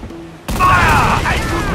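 A dense, booming barrage of ship cannon fire in Assassin's Creed IV: Black Flag erupts suddenly after a quiet moment, rumbling loudly and continuously with crackling debris.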